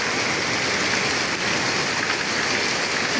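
Heavy rain pounds down in a loud, unbroken roar close by, a thick wall of hiss with no pauses and no voices.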